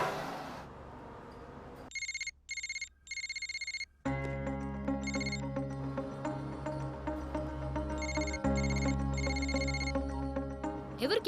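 An electronic phone ringtone repeats in short bursts with brief pauses, then continues under a musical backing track as the call goes unanswered, in a Telugu comedy film scene.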